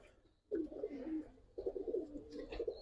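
Pigeons at a pigeon farm coo in two clear bursts, the second following about a second after the first, close and fairly quiet with no talk.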